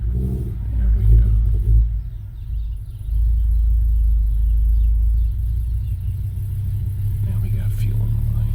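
An Audi 4000 Quattro engine runs after a CIS fuel injection rebuild and a small timing adjustment, holding a steady, close, deep rumble that steps up louder around the third second and stays even.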